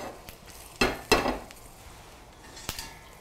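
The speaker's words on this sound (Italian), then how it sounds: "scaldiamo un filo d'olio, aggiungiamo l'aglio, lasciamo leggermente rosolare" A low, steady hiss of garlic frying in olive oil in a pan, broken by a few sharp clatters of a utensil against the pan, close by and with no talk.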